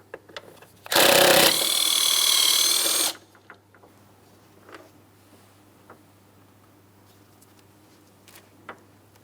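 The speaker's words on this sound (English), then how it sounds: "We'll be using a 13 millimeter for the mounting bolt." A 13 mm tool loosens the battery hold-down bolt on a 2008-2016 Chrysler Town & Country 3.8L V6, giving one loud, close two-second whirring burst followed by faint scattered clicks and clatter.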